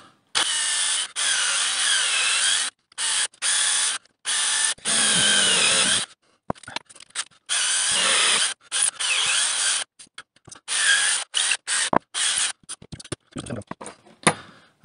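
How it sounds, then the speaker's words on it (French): A 3 mm bit drilling through wood with a handheld power drill, running in repeated bursts of high-pitched whine separated by short pauses, loud and close, with no one talking. "Après avec la mèche de 3, on va après percer d'un côté et de l'autre."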